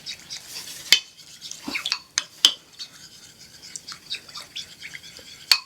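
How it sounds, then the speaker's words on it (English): A utensil stirs garlic into an udon noodle sauce in a bowl, giving irregular scrapes, taps and clinks at close range with short gaps of quiet between strokes. "And we're just going to mix this up."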